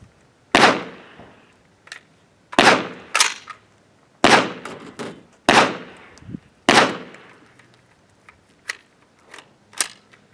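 A rifle with a Bakelite magazine fires until the bolt locks back on the empty magazine: about six loud, sharp, close shots with ringing tails at irregular intervals, followed by a few quieter metallic clicks.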